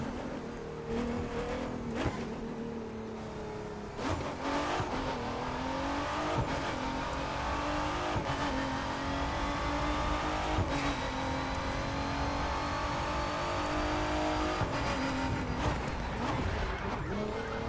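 A 2017 Ford GT in the racing game The Crew 2 roars steadily as it cruises and drifts along a boardwalk, with the engine note climbing and dropping through repeated gear shifts and brief tire noise, continuous and close.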